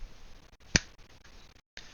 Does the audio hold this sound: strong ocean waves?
no